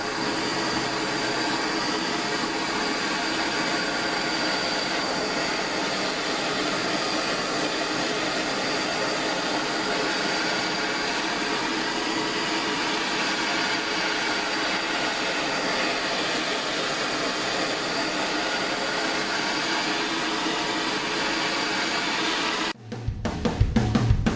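A gas forge or torch burner roars steadily while heating steel from a saw mill blade for a knife, a loud continuous broadband rush that holds for over twenty seconds before cutting off abruptly near the end.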